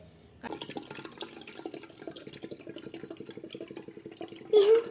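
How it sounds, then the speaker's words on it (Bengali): Coconut water pours from a large green coconut into a pot, a close trickling, splashing stream running for several seconds, with a brief louder burst near the end. "ডাবের জল ঢালতে এই যে হাঁড়ি নিয়ে এসেছি"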